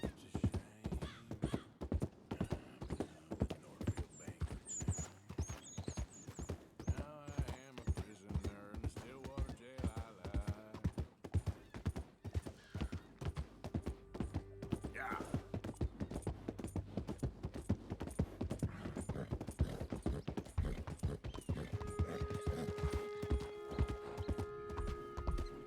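Horse hooves clip-clop in a steady, continuous rhythm through Red Dead Redemption 2, close and prominent, with occasional whinnies and creaking tack under faint music.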